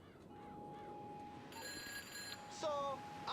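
A ringing phone in a video game trills in short electronic bursts over quiet background sound, with faint tones and beeps around it.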